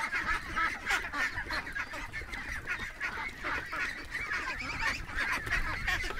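A group of ducks quacking and honking close up, rapid overlapping calls repeating without a break, with no talking.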